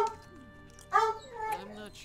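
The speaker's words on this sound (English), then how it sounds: "I do apologize if you hear the dog barking." A dog barks a couple of times in the background of a gaming livestream, short harmonic yelps rising over a person talking.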